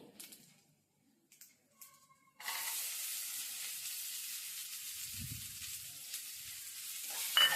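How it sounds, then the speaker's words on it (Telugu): Flat beans with curry leaves sizzle steadily in a hot pan after a few quiet stirring clicks, a close, continuous frying hiss with a low scrape of stirring midway. "ఇవి ఒక 2 మినిట్స్ ఫ్రై అవ్వనివ్వాలి"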